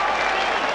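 Crowd applauding at a 1985 rugby league test match between New Zealand and Australia, with dense, continuous clapping and cheering from a large stadium audience filling the whole short moment.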